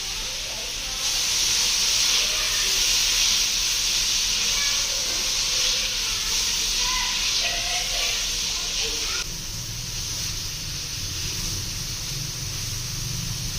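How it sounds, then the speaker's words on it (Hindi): Chopped carrots frying in a pan over a high flame: a steady, loud, close sizzling hiss that holds throughout, with a slight drop and a change in tone toward the end. "अब हाई फ्लेम पे हमने इसको थोड़ा सा फ्राई करना है।"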